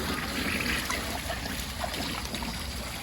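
An American Standard Clinic toilet flushes, and a steady rush and trickle of water fills the whole short stretch at close range. No one speaks.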